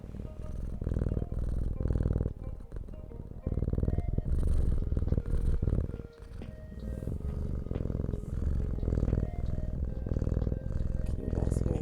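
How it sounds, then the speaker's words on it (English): A cat purrs close by in a deep, rhythmic rumble of repeating pulses with a few brief breaks, in an indoor setting. "Can you guys hear the purrs?"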